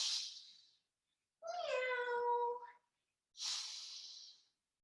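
A person voices a drawn-out meow imitating a cat, set between two soft breathy exhales before and after.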